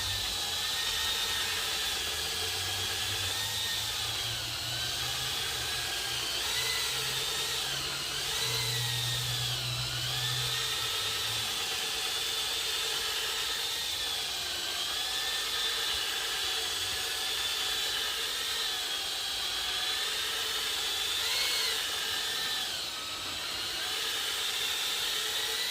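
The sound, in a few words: polisher buffing a car headlight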